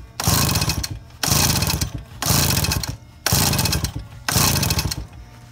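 Recoil pull-starting a 2002 Suzuki LT50 quad engine with the gasket on during a compression test: five loud, close, evenly spaced cranking bursts, each about a second long with short pauses between.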